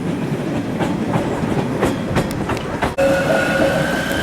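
Train at Basel railway station in Switzerland, loud and close with rhythmic clickety-clack of wheels over rail joints, then a sudden shift to a steady tonal whine near the end.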